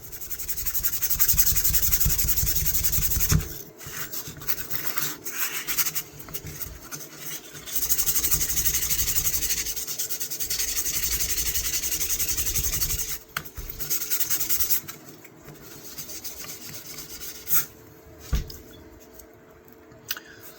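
Fine 1500-grit sandpaper smoothing the rusty blade of a 1950s Imperial knife, a long steady hiss of rubbing strokes, close up, broken by short pauses and a few faint clicks.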